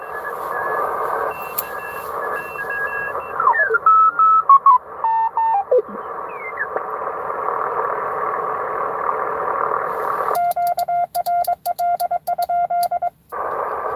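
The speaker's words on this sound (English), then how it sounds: "Right now, I'm sending the letters QRL in Morse code" Amateur radio Morse code transmission on a ham band during a parks-on-the-air activation, a steady sidetone keyed in rapid dots and dashes over a constant hum, with tuning sweeps and bursts of keyed tones.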